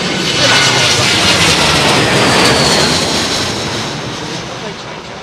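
Jet airliner, an A220 type, arriving at Heathrow Airport on a windy day, with a loud steady broadband engine roar and wind rush that fades slightly toward the end.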